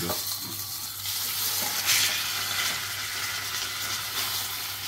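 Steak searing in a hot pan gives a steady, close hiss and sizzle that holds throughout, with a brief louder crackle near the two-second mark.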